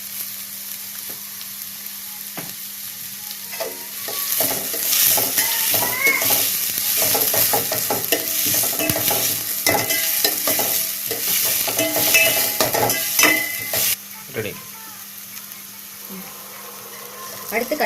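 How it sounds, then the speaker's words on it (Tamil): Cauliflower-capsicum gravy vegetables with salt are sautéed in a pan, giving a close, crackling sizzle under repeated scraping stirs that get busier in the middle, over a faint steady hum. "நல்லா வதக்குங்க. இதில் கொஞ்சம் உப்பு சேர்த்து வதக்கலாம்."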